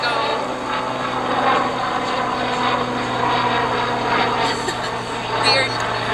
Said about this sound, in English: There's a helicopter. I think it looks like a medical alert thing.